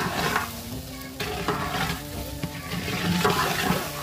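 Spices frying in a pot for biryani are stirred continuously, giving a steady close sizzle broken by scraping strokes of the spoon against the pot.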